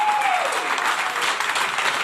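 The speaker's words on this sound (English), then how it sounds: "Another round of applause, ladies and gentlemen." An audience at a live soccer tournament draw event applauds, a brief, steady burst of crowd clapping filling the room at close range.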